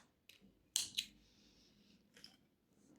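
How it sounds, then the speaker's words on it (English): Scissors snip excess crochet yarn from a small flower, heard as a couple of sharp, close, quiet clicks and crisp snips in an otherwise hushed room. "And cut your excess off."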